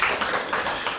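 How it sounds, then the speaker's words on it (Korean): Church congregation applauding during a Sunday worship service, a dense, steady wash of many hands clapping together throughout the short burst. "박수 한번 부탁드리겠습니다"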